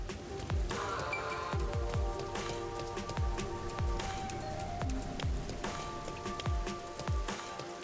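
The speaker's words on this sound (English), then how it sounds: "The rain never ends." Constant rainfall in the video game Rain Code hisses throughout, while regular low thumps, like footsteps, fall roughly every half second alongside quiet background music.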